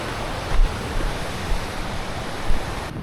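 A mountain creek flowing, a steady broadband rush of water close by with slight surges, no voices.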